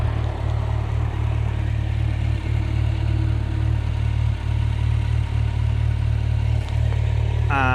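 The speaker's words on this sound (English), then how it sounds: "Let's get the bike started" A 2020 Kawasaki Z900 motorcycle idles close by with a steady, even low engine rumble throughout.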